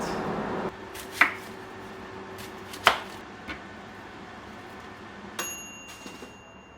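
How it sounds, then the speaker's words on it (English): A few sparse knife thuds of onions being chopped on a cutting board, spaced irregularly over quiet room tone, with a faint clink near the end. "First thing I'm going to do is chop up the onions."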